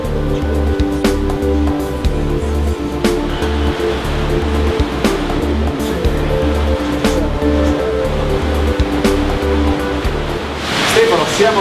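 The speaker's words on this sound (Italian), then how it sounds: "il ronco che si sente in sottofondo è il rumore della cascata che cade da circa 50 metri d'altezza" A waterfall dropping about 50 metres inside the Rio Martino cave gives a continuous deep roar, steady and broad from start to finish, with no talking.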